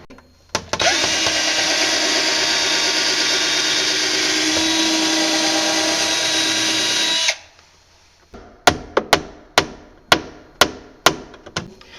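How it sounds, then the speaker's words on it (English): A hammer drives a nail into crown molding with about eight sharp, close strikes in a steady rhythm, after a long, loud, continuous machine-like whir stops. "Once you get very close to the wood with the nail head, like we are now, you don't want to continue to hammer"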